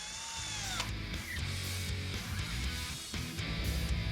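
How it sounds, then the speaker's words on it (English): A drill spins to prime the oil pump on an Aprilia RS 125 motorcycle, giving a close, continuous motor whine that shifts pitch as the speed changes, with a few brief dips. "keep the drill spinning for another 30 seconds just to ensure the oil has entered the carburetor"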